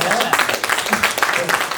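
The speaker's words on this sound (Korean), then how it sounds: "우리 허 회장님한테 한번 박수 보내드리죠" Audience applause for a chairman at a Korean education lecture, a dense patter of many hands clapping close by without break, with no voices above it.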